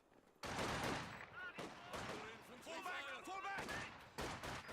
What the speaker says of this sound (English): Volkswagen is firing away.